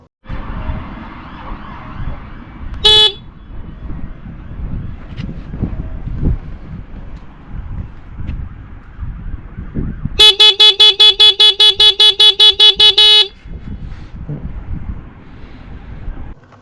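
A Pidzoom FH60 Finger Horn alarm fitted to a bike goes off outdoors in windy conditions: one short, loud electronic blast, then a sustained pulsing alarm tone lasting about three seconds, both over steady wind rumble.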